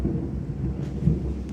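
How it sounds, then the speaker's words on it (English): Thunder during a storm, a deep low rumble rolling steadily throughout, close and fairly loud, with a faint hiss of rain and no talk. "And there you go, another thunder."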